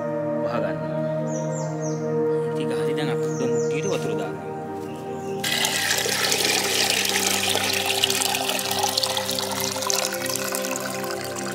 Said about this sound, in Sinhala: ඉතින් ගහලා දැන් අපිට මුට්ටියට වතුර දාන්න.